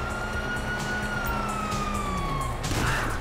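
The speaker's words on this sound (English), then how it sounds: "Oh, fuck, you hear that? Sirens!" Police sirens wail in Grand Theft Auto V, with wavering rising and falling tones sounding fairly close over continuous background noise, followed by a short noisy burst at the end.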